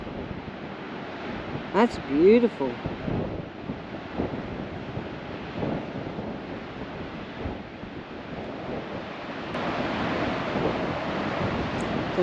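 Ocean waves break below cliffs as a loud continuous wash, mixed with gusting wind buffeting the microphone and a person briefly speaking.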